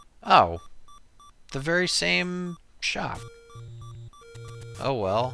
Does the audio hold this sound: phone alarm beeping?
yes